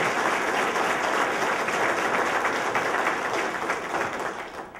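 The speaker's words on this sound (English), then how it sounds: "Please give them a round of applause." An audience gives a sustained round of applause for a tribal construction project team, the thick, even clapping of many hands holding steady before easing slightly at the end.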